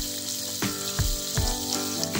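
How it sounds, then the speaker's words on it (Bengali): Steady, loud sizzling of bata fish frying in a hot pan, with a few soft clinks and thumps from moving it around. "এক পিঠে একটু ভালো করে ভাজা হয়ে যাক, তারপরে উল্টে দেবো।"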